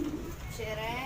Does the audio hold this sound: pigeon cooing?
yes